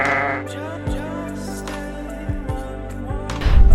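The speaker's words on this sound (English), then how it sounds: "This is like sheep heaven. There's sheep everywhere." Sheep bleat on an island, several loud nearby cries overlapping with one another against a steady outdoor background, growing busier at the end.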